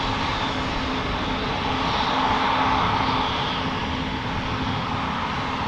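A KLM Embraer 195 regional jet, three years old, at Amsterdam Schiphol, its engines giving a steady moderate roar with a faint tonal hum, swelling slightly midway and heard fairly close.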